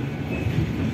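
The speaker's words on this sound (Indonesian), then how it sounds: "bentar lagi kereta api Lodaya akan berhenti di tujuan akhir stasiun Bandung" Lodaya passenger train, a new trainset, pulling into Bandung station: a steady low rumble of wheels and carriage noise heard from inside the train, continuous and moderately loud with no talking.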